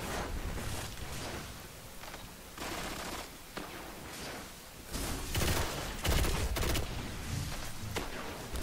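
Heavy-recoil gun in Destiny on PS4 firing in loud bursts, dense broadband blasts recurring through the stretch with no speech over it.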